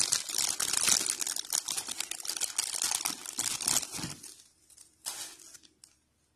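Plastic packaging around a small Funko Pop-style Saint Seiya mini figurine is pulled open with dense, loud crinkling and crackling close by. The noise thins out, then a short final burst of rustling follows. No voices.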